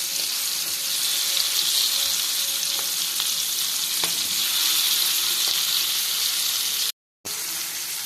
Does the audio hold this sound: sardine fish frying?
yes